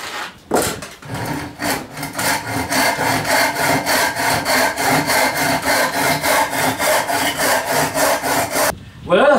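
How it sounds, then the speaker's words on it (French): A hand saw cuts through wood in steady, rapid back-and-forth strokes, loud and close, running rhythmically for several seconds before stopping abruptly. "la scie n'accroche plus"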